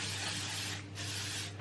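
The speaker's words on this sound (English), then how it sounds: "I'm going to go with the Voodoo's Defenders. This is a heat protectant." Heat protectant hair spray hisses from a spray bottle in a close, steady burst, with a short pause before the hiss resumes.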